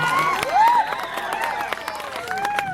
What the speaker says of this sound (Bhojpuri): और गोलू भाई खातिर जोरदार ताली आप लोग।